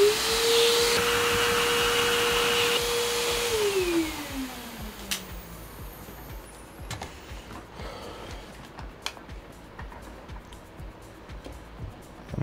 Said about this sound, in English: We grab our vacuum and our brush.